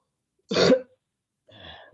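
A man coughs once sharply up close, then a second, softer cough or throat clear follows after a short silence.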